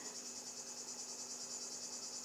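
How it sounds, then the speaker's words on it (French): Continuous shrill, pulsing buzz of cicadas chirping outdoors, steady and unbroken, with no voices. "je vais me taire un instant pour que vous entendiez les cigales"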